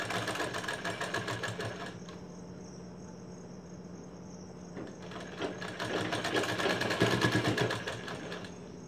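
A sewing machine stitches a blouse seam in a steady, continuous whir that eases slightly midway, then surges louder and busier toward the end, close and alone without voices.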